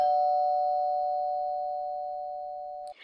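A single sustained electronic doorbell chime rings steadily for about three seconds and fades slightly before cutting off.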